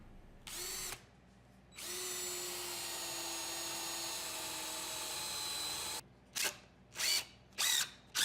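A power drill drives screws into a wooden workbench, whining in one long sustained run and then several short bursts, loud and close with no talking.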